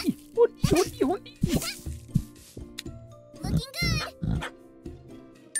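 A cartoonish dog barks and yaps in the video game Koa and the Five Pirates of Mara, in short bouncy calls mixed with game jingles while a person talks over it.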